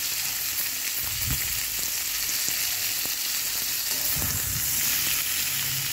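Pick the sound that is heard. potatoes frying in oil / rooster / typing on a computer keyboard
potatoes frying in oil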